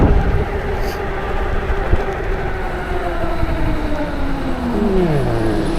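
A Movcan V60 Pro compact e-moped ridden at full throttle on a flat course, giving a steady whine and rushing wind and road noise that rise in pitch through the run, with no talking.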